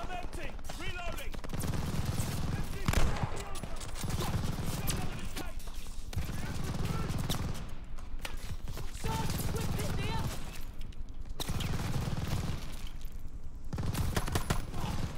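Sustained machine gun fire from an enemy MG position in the Call of Duty: Vanguard campaign, dense repeated bursts rattling loudly throughout with brief gaps, mixed with battle noise and shouting voices.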